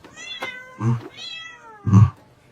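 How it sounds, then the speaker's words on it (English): A cat hidden inside a backpack meows three times, the first a short thin cry and the last two louder and fuller, close up with quiet gaps between. "Sir, we found a cat inside your son's backpack."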